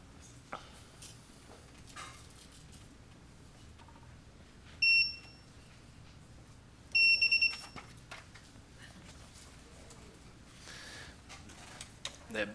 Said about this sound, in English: That beep is kind of annoying.